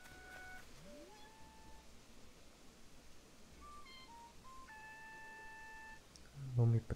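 A cat villager in the Animal Crossing video game gives a short series of high, tonal meow-like chirps and blips in a quiet game scene, ending with a brief louder burst.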